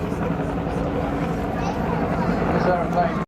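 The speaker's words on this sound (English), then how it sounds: "Lycoming T-53 turboshaft." Steady, heavy turbine and rotor noise from a Bell Huey helicopter with its Lycoming T-53 turboshaft at the Blackpool airshow, continuous and fairly loud, with an announcer's voice running over it.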